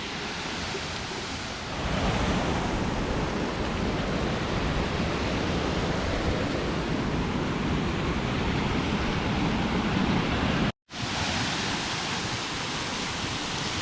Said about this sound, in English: Here we are at the Mali waterfall,